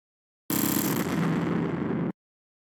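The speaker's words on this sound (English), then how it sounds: "Okay, so we check our explosion." A bomb explosion sound effect for a Scratch shooting game plays as one dense, loud blast that holds at full strength for about a second and a half and then cuts off sharply, with silence on either side.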